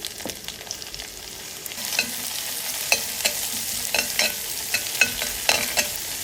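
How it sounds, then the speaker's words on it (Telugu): Onions and green chillies frying in mustard oil with cumin seeds, a steady sizzle broken by repeated sharp scraping stirs of a spatula in the pan, close and fairly loud, with no talking. "జీలకర్ర వేగిన తర్వాత ఉల్లిపాయలు, పచ్చిమిరపకాయలు"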